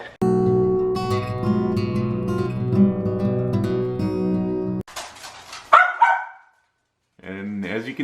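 An old 15-year-old schnauzer barks in sharp, close bursts of yips toward the end, after a stretch of steady tonal household noise; the barks come in uneven clusters with short pauses between them.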